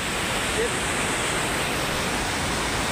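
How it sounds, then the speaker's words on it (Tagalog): Waterfall at a spring in Bohol, a dense continuous rush of falling water filling the whole clip at steady loudness, with no break. "Ito na yung falls."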